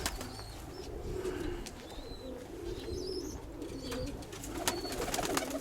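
Pigeons coo in a low, repeated rolling murmur, several birds overlapping steadily, with a few faint chirps and wing rustles above.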